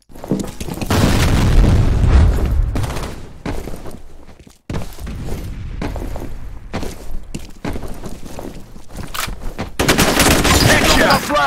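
Grenade explosion and gunfire in the FEAR video game during a multiplayer capture-the-flag match: heavy booms and rapid bursts of automatic fire, loud and close, with brief pauses between volleys and faint footsteps.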